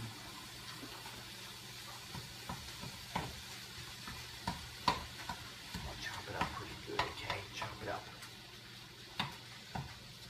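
Ground turkey sizzling in a heated, fairly large pan, with steady frying hiss under scattered scraping and stirring clicks that pick up in the second half, close by.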